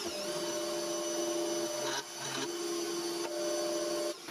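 Lathe cutting a small chamfer on an 8mm stainless steel shaft, a steady high machining whine with a constant motor hum, briefly dipping a few times as the cut eases off, close and alone.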